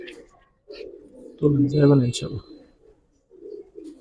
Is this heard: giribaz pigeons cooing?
yes